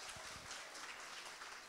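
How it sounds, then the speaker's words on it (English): Applause from a dance-school student performance audience, a steady even clatter of clapping throughout, fairly faint and distant, with no talking over it. "I'm going to give her a round of applause."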